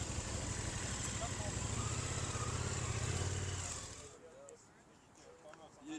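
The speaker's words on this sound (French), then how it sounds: "La Z4 qui s'en va" A BMW Z4 with a 3.2-litre engine pulls away from a car meet in a Lille parking lot. Its engine drones steadily at close range for about four seconds, then fades quickly into quiet background.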